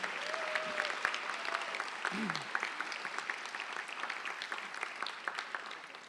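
A convocation audience at John Jay College applauds the new students, a steady wash of clapping that runs the whole time at a fairly faint, distant level.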